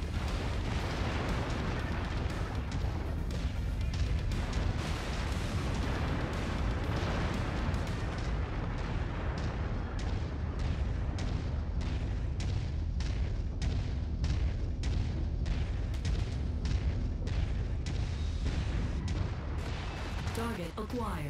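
Mech weapons fire and explosions rage in a MechWarrior 5 battle: a dense, loud barrage of rapid booms and cracks, thick and continuous at first, then thinning into a steady string of sharp repeated shots.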